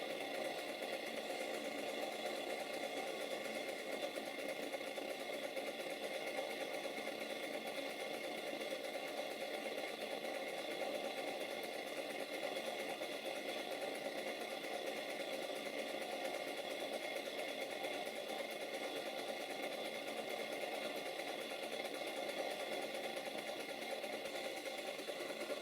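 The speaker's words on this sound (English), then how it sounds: "I'll stop talking for a while and just let the engine run." A small Stuart Victoria model steam engine runs steadily with a fast, even mechanical clatter and hiss, unchanging throughout with no talking.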